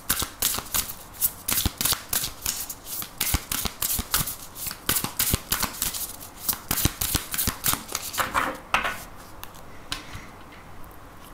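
Tarot and oracle cards being shuffled, a rapid run of crisp riffling snaps and soft slaps close up, steady for about eight seconds before tapering into quieter handling.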